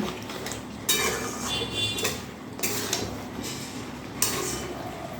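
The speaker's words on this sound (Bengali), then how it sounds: "এবারে খুব ভালো করে এই চিকেনটা মশলার সঙ্গে কষিয়ে নিতে হবে" Chicken being sautéed with spices in a pot for chicken biryani, with a utensil repeatedly scraping and clanking against the metal over a steady background sizzle, loud and close, with no talking.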